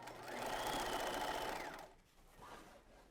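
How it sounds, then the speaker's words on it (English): A sewing machine stitches the side seam of a 1950s circle skirt from the waistline, giving one close, loud whirring run of about two seconds that stops abruptly, followed by a brief softer rustle. "I'm sewing my seam from the waistline"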